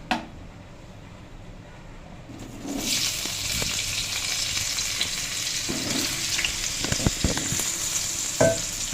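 Potatoes hit hot oil tempered with whole cumin and bay leaf, and a quiet start swells into a loud, constant sizzle, with scraping and clattering stirs in the pan toward the end.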